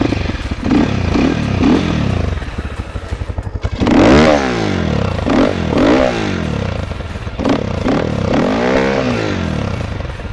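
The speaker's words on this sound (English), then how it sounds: "So this has a very loud exhaust. Okay, I'll show you how loud it is." A Cleveland CycleWerks Hooligun 250 motorcycle with its loud stock exhaust is revved close by in a string of sharp throttle blips, each rising and falling, with a brief lull before harder revs.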